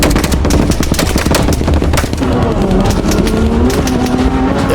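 An Aston Martin One-77 engine blares loud and close, a rapid crackling, popping exhaust over a rising and falling rev that runs the whole stretch with no voices.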